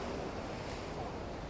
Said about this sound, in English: Now we're just going to wait for another set of waves and take another shot.